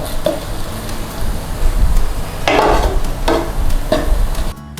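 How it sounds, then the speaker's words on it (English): Shrimp paste and garlic cooking low and gentle in a pan, a soft steady sizzle with occasional stirring scrapes, moderately close and alone. "when we're cooking shrimp paste, guys, we need to cook it low and slow"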